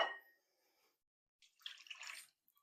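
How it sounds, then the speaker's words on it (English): Scalded milk, steaming hot, poured into a bowl, about half a cup, a short close splashing pour of roughly a second after a brief soft knock and quiet pause. "So I'm going to pour my scalded milk into this bowl."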